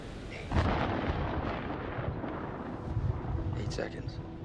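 Deep thunder from a distant storm rolls on and on as a low, continuous rumble in the video game Man of Medan, with no speech over it.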